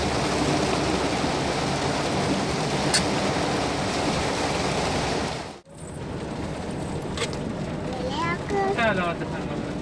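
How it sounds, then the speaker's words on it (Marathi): A constant wash of heavy rain fills the air. Near the end, voices talk briefly over the downpour. "मोठा पाऊस आहे का बघा"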